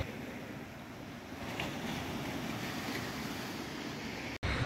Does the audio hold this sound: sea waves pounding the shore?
yes